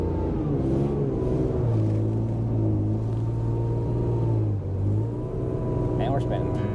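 A Wilmar machine's engine revving in second gear, a loud continuous rumbling drone that rises and falls in pitch as it pulls, with a brief dip near the end and a voice speaking over it.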